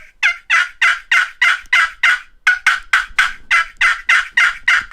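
Rapid series of about sixteen loud, close wild turkey gobbles, evenly spaced and alone.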